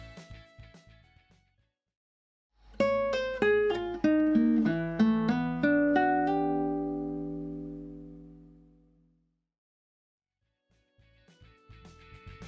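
A classical guitar plays a rapid sextuplet passage from Ginastera's Guitar Sonata, third movement, a quick cascade of plucked notes ringing together and fading out, close and alone, with faint other sounds at the start and end.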